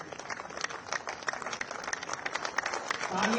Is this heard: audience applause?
yes